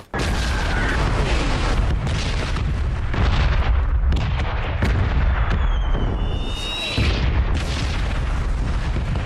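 Constant loud red zone bombardment in PUBG: Battlegrounds rumbles with booming explosions and sharp bursts, plus a few whistling tones sweeping overhead, continuous and dense throughout.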